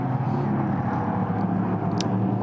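Prototype race cars at the Mid-Ohio Sports Car Course brake side by side into turn 4, heard as a steady, fairly distant engine roar with a broad whooshing wash and no talk.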